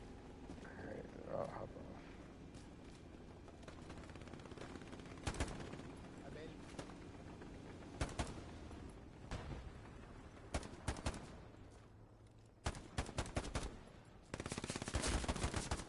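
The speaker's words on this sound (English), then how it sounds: "Some good gunplay there, and there's the PPSH doing what it does best" PPSh submachine guns fire in a World War II video game, with scattered bursts and single shots, some distant and some close, coming faster toward the end under faint background voices.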